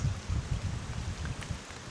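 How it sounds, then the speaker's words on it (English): Heavy rain pouring down on an inshore kayak fishing trip during a tournament day with nearby lightning, a dense continuous hiss of drops drumming on surfaces close by. "It's just dumping rain."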